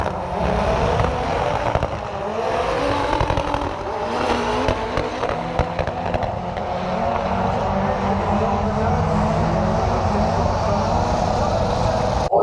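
Drag race at Santa Pod between a Ford Z-Tech Turbo Fiesta and a Vauxhall in the front-wheel-drive class: loud, sustained engine roar with shifting pitch, steady throughout, no talking.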